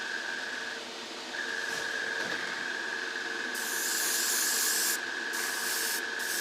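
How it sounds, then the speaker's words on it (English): A noisy air compressor hums with a steady whine while an airbrush sprays paint onto a 1:35 scale Tamiya Russian T-55A tank model, bursts of hissing spray coming and going over the constant drone. "my compressor's very noisy"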